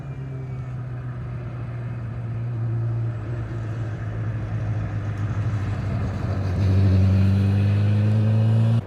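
An F1000 race car drives on track, its engine holding a strong steady drone that climbs in pitch and grows louder near the end, heard from the trackside.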